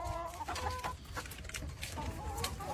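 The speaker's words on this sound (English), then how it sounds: "So here, we got a mobile chicken coop" Chickens cluck in a mobile chicken coop on a ranch pasture, several birds overlapping in soft, irregular calls at moderate distance with no one talking.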